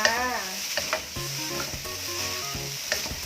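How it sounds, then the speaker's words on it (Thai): Rice sizzling and being stirred in a hot pan, with soft scraping and clinking of a utensil against the metal, fairly quiet and continuous. "ช่วงผัดข้าวก็ใช้ไฟอ่อนๆ เพราะว่ามันจะได้ไม่ติดกระทะค่ะ"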